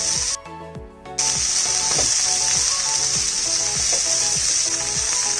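Capsicum tipped into a pan of frying mushrooms sizzles steadily and close, a dense hiss with repeated metallic scraping clicks of stirring, after a brief near-silent gap at the start.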